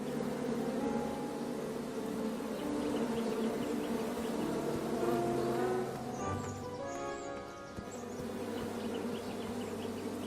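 Bees swarm around a beehive in a video game, a dense, steady buzzing drone close by that holds throughout with slight shifts in pitch.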